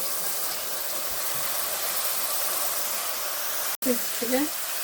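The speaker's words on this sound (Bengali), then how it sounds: "মশলাটা আমি সুন্দর করে কষাই নেব, তেল ছাড়া দেওয়ার আগ পর্যন্ত" Spice paste for a spicy pumpkin shrimp curry sizzles in hot oil with a steady, loud frying hiss. The hiss cuts off abruptly near the end, followed by brief faint clatter.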